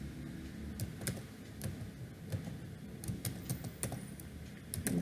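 Typing on a computer keyboard while entering environment variables on a PC, a steady run of quick, close key clicks with uneven rhythm over a quiet background hum.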